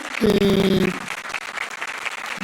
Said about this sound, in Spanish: le voy a pedir un fuerte aplauso para los expositores